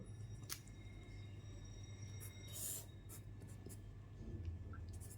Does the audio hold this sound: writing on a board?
yes